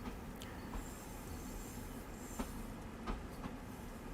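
An M3 train running on the LIRR in a train simulator game: a steady rolling rumble with periodic clicking wheel beats and faint squeals, at low level.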